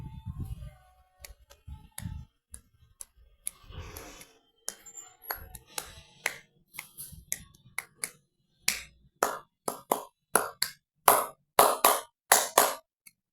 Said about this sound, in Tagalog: Palakpak ko yun guys